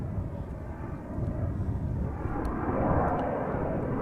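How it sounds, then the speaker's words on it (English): Turkish Airlines Airbus A330 taking off from Amsterdam Schiphol, a steady distant jet engine roar that swells gradually, heard alone without talk. "Is that a Turkish A330 that just took off?"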